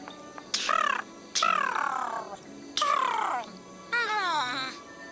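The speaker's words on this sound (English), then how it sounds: "I hear a bird, Holmes." Four loud, harsh crow-like caws in the Sherlock Holmes: Nemesis video game, each a separate descending call spaced about a second apart against a quiet ambient background.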